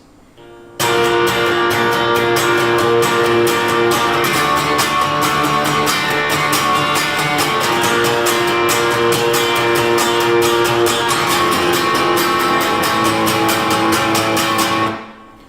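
Steady rhythmic guitar strumming, loud and continuous, with dense repeated chords played alone for about fifteen seconds.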